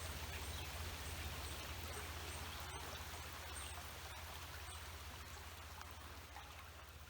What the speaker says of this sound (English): Thank you for the rain, Almighty.